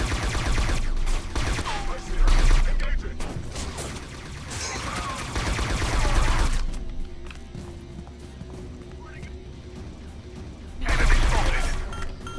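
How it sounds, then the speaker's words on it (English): A grenade explosion and gunfire in the video game Scourge Outbreak: a burst of loud blasts and rapid shots early on, a second loud burst near the end, under a player's talk. "Oh, that's a grenade, that is."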